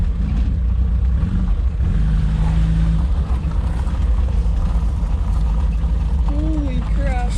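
An Opel GT fitted with a Weber 32/36 carburetor driving in circles, its engine droning loudly and steadily up close with a continuous rumble and slight pitch rises, while a voice talks briefly.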